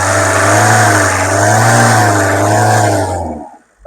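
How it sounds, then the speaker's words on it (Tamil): A Tata Indigo car's engine revs hard and steadily with the radiator cap off, a loud, continuous roar sustained for about three seconds before cutting off abruptly. "நல்லா ரேஸ் பண்ணப்பா."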